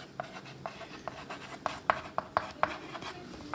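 Chalk or marker writing on a board during a class 12 chemistry lesson gives a series of sharp taps and short strokes, moderately close, with quiet room tone and no overlapping talk.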